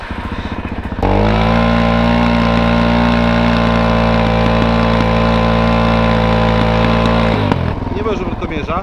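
A car engine with a homologated exhaust runs at a steady, loud idle with a deep, droning hum, rising abruptly near the start and cutting off toward the end, while people talk over it.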